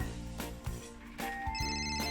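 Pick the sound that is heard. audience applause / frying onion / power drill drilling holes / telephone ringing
telephone ringing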